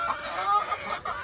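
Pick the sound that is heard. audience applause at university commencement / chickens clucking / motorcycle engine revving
chickens clucking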